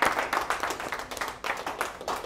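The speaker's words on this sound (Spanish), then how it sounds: "démosle un aplauso a nuestro Señor" A congregation in church claps in quick, fairly even rhythmic applause, moderately close and without voices over it.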